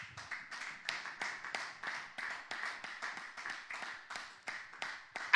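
A church congregation claps in steady unison, about three claps per second, each beat crisp and even. The clapping is moderately close and continues without talk.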